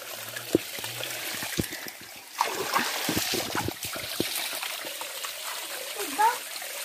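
Water running at Hiding Falls, a steady rushing flow with splashing beneath it, while footsteps and handling knocks sound close by and people talk briefly at points.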